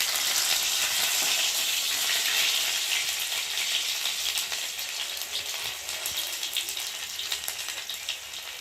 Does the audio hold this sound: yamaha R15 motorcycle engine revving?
no